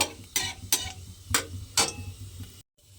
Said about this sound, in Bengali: কালো জিরেটাকে এইভাবে নেড়ে চেড়ে একটু ভেজে নেব